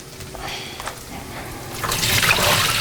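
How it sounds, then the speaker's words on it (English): Water is drained out of a cooking pot while making street-style pad thai, a close, splashing gush that swells louder toward the end. "I'm just gonna drain out this water."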